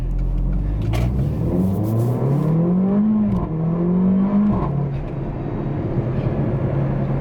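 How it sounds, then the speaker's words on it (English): Mercedes GLA 45 AMG accelerating hard, its engine note climbing in pitch through the gears with a brief shift dip, loud and close with steady road and wind roar underneath. "Let's do one more acceleration run."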